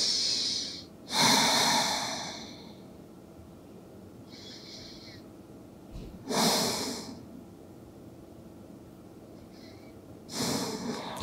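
Deep, audible breaths during a yoga flow: three long, forceful exhalations spaced several seconds apart, with softer inhales between, close to the microphone in a quiet room.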